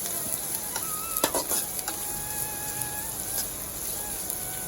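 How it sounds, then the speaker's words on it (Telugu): Finely chopped onions and cumin frying in oil in a bowl or pan, giving a constant, close, hissing sizzle with a few sharp crackles and spoon taps early on, and a thin high whine running underneath. "ఆనియన్స్ బ్రౌన్ కలర్ వచ్చే వరకు బాగా వేయించుకోవాలి."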